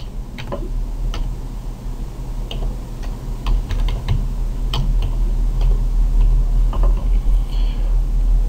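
Steady keyboard typing as an IP address is entered while setting up a Dahua 5108 DVR in PSS Pro Surveillance System software, with irregular close key taps over a constant low electrical hum and no talk.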